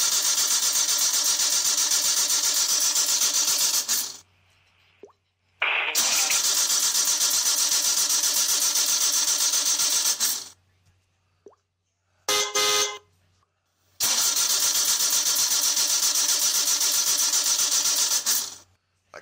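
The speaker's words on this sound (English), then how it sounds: "My car won't start." A car that won't start cranks over in three long, loud bursts of several seconds each, separated by silent pauses, with a brief clatter in between; recorded close with no talking.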